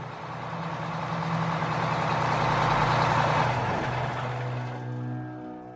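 A bus engine idles at night with a steady low rumble, close and continuous, that shifts slightly toward the end with no voices.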